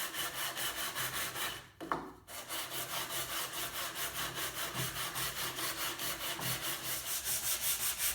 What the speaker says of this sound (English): Hand sanding will begin with 80 grit, and in this case I have a sheet attached to a piece of MDF board.